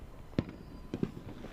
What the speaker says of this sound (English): fireworks going off behind you in your new school colors